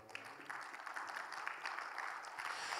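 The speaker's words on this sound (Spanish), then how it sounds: "un fuerte aplauso al Señor" A congregation at a Bible seminar applauds, a soft, steady patter of many hands clapping throughout, heard from a distance and fairly faint.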